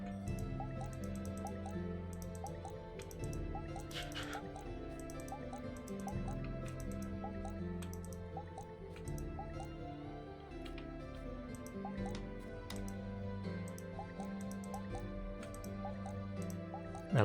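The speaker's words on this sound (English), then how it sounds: "I like the sound of the watering can." A watering can waters crops in the farming game Moonstone Island, giving soft, repeated dripping and splashing plinks in a steady rhythm over a quiet, gentle music bed.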